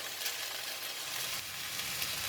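Tofu and egg frying for mee goreng fried noodles in a hot pan give off a steady, close, broadband sizzle that holds evenly throughout, with no one talking.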